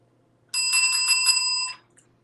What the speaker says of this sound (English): I ring my teacher bell every time we have a new student in the class.